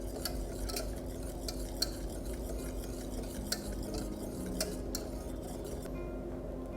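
Milk and almond powder whisked in a pot, giving soft repeated stirring strokes and faint clinks of the whisk against the metal over a low steady hum, quiet and close with no speech.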